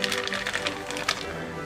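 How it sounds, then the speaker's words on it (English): Parchment paper is peeled off a freshly baked Boston cream pie cake layer turned out onto a cooling rack, giving a close, crisp crackling rustle of quick ticking paper crinkles. "Then peel off the parchment paper."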